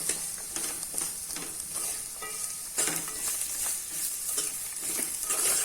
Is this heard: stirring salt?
yes